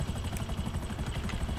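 A helicopter in GTA 5 Online drones with a constant rotor chop and engine roar, loud and steady throughout.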